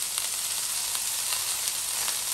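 Whole green chillies sizzle in hot oil alongside a dried chilli while chicken curry is being cooked, a steady, fairly quiet crackling fry with tiny pops throughout and no talking.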